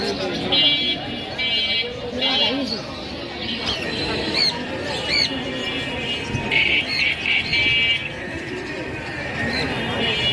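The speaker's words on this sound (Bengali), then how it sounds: "দেখতে পাচ্ছ সব সব পাখির দোকান, পাখির বাজার, কত সুন্দর সুন্দর পাখি" Caged birds at a busy bird market, with bright chirps and tweets scattered across a crowded, noisy background while people talk nearby.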